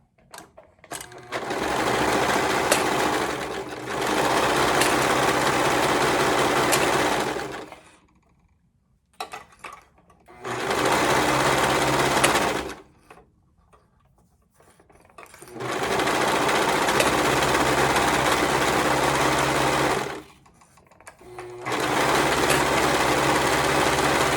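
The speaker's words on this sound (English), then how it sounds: "We'll go ahead and sew up that side seam." Sewing machine stitching a side seam runs in four long, loud bursts of steady whirring with short quiet pauses between them, close up and with no talking.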